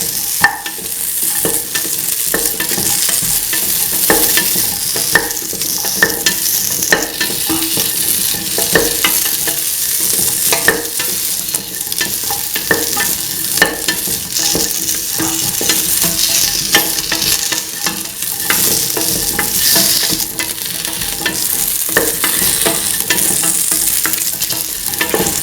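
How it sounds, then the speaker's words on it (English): Potato pieces fry in a pan while being stirred, a loud, steady sizzle layered with frequent scraping and clicking of a utensil against the pan for the full stretch. "Mix potato pieces thoroughly."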